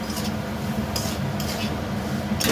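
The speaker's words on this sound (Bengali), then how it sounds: "দাও সুজিটা দিয়ে দিলাম। দাও দাও দাও, নাড়তে থাকো নাড়তে থাকো।" Semolina (suji) being stirred in a cooking pan, a steady scraping and rubbing of utensil against metal with faint sizzling, close and continuous for a couple of seconds.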